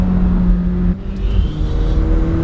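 A McLaren 720S turbocharged engine revs hard high in the rev band, a loud, close mechanical drone whose pitch climbs, dips briefly, then rises again under acceleration, with no talking.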